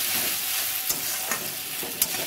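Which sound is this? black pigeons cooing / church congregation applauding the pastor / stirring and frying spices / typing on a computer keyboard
stirring and frying spices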